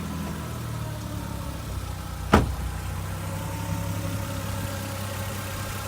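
Idling Lexus IS200 turbo engine, a steady low rumble broken by one short, sharp blip of revs, heard close with no talk.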